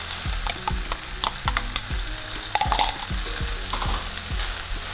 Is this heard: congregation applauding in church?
no